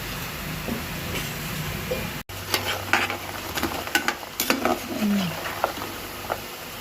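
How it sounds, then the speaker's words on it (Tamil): A sweet frying in oil over moderate heat until golden brown, giving a steady bubbling sizzle with scattered louder pops and the scrape of stirring. It cuts off briefly and then carries on. "இது நல்லா கோல்டன் ப்ரௌன் கலர் ஆகிற வரைக்கும் வேக விட்டு எடுத்துக்கலாம்."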